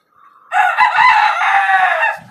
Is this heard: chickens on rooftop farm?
yes